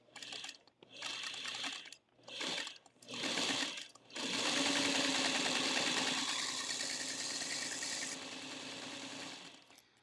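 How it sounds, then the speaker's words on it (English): A domestic sewing machine stitches fabric, first in several short bursts and then in one long, steady run of fast mechanical whirring, close up and without talk. "And then I'm going to take this over to my sewing machine."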